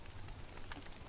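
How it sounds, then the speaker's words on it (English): Rain falls in the video game Don't Starve, a soft, steady patter of drops filling the short moment at low volume, with no voices over it. "Oh, no, it's raining."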